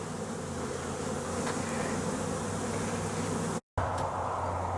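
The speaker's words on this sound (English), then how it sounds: "There's a lot of bees." A dense swarm of honey bees around a box hums in a steady, thick drone, close and continuous, broken by one brief dropout near the end.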